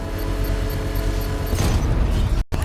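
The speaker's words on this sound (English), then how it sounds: "I can use the power winch to trigger a controlled explosion." Controlled detonation of a bomb set off with a power winch in Batman Arkham Knight: a heavy low mechanical rumble swells into a loud booming blast, then cuts abruptly to silence.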